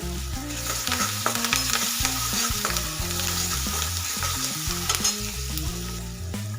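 Potato patty filling with turmeric and chopped coriander is sautéed in oil, with a loud, continuous sizzle and frequent spatula stirring knocks throughout.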